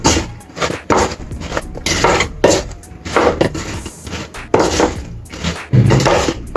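Spoon scraping and knocking against a bowl as mustard powder and fenugreek powder are mixed into tomato pickle, a run of uneven clinks and scrapes, close and fairly loud, with no talking.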